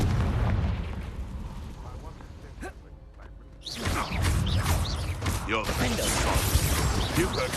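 Confringo blasting spell explosions and battle effects in the video game Hogwarts Legacy, loud booming bursts with crackling debris, a brief lull midway, then dense repeated impacts.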